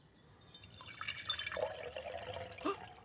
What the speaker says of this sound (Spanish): Enrique, coloca un poco de agua en uno de los vasos.